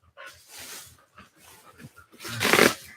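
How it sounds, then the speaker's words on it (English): A dog makes rough, breathy growling and huffing noises in short bursts, building to a louder, harsher outburst near the end, close by and without talk. "She's noisy though. She does a good job at barking"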